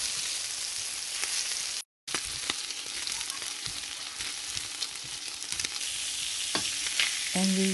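Pork and chicken pieces fry in a pan with a steady, bright sizzle and occasional stirring clicks, close and continuous, briefly cutting out once.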